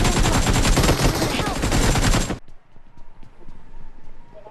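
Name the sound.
gunfire in a shooting video game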